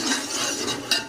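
A utensil scrapes and clinks against a pot while spices are stirred into vegetable pilaf, a short run of gritty swishes ending in a sharper clink, close and alone.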